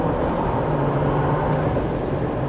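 A 2025 Jeep Wrangler Willys 4xe accelerates hard in hybrid mode in second gear, giving a steady, dense engine and road roar heard from inside the cabin, with no talk.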